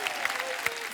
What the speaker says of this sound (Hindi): यार एक बार ताली बजा दो इसके लिए यार।